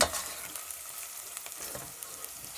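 Onion and minced meat browning in a pan for a Kütahya soup, a brief, quiet, even sizzle with a few small stirring ticks, no voices.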